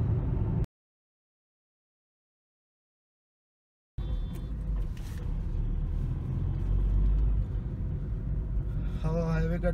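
Inside a Tata Tigor on an Indian highway, a steady low road rumble and engine drone rise after a brief stretch of silence, with faint higher whines near the end.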